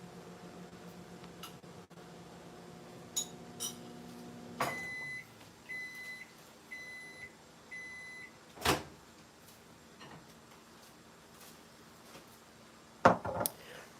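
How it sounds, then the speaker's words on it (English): A microwave oven hums steadily, then a short series of evenly spaced electronic beeps sounds, followed by a few clicks and knocks nearby. "Just a teensy bit more heating in the microwave"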